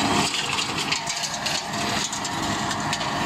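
A tractor-mounted mulcher runs at night on its first passes, a steady, loud, broadband mechanical roar with an engine drone that holds constant throughout, with no voices.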